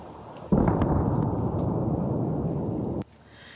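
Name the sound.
explosions in Beirut's southern suburbs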